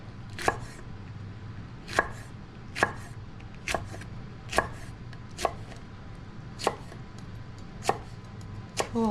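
Jalapenos are cut on a cutting board for water-bath canning, the knife landing in single crisp chops at a slow, even pace, about one every second, close up and with no talk.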